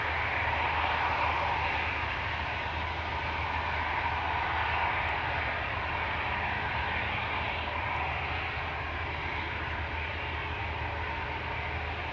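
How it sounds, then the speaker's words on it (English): A steady, broad roar of a Boeing 747-8 cargo jet's engines droning at a distance at Amsterdam Schiphol Airport, unchanging throughout with no voices. "the 7478 over there, Cathay Pacific Cargo"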